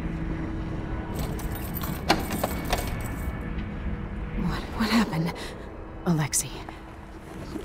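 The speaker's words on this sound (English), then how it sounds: "They say that this ring is one of the only two keys to exist." Keys on a ring jangle in the Dishonored 2 video game, with metallic clinks scattered through the scene under a voice and low ambient rumble.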